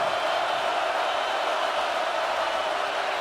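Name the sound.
stadium crowd cheering loudly at Ohio State football game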